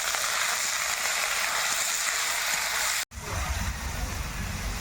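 Freshwater mussels dropped into a pan of browned onions set up a steady, close sizzle that cuts out briefly just after three seconds, then resumes with a rougher, fuller frying noise.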